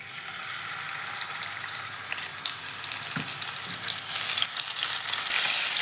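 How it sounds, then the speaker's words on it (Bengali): Hot oil sizzles and crackles steadily as small fish fry, growing gradually louder, with a brief clink partway through and no talking. "তেলটা গরম হয়ে গেলে তার মধ্যে মাছগুলো দিয়ে"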